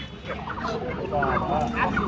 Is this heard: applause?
no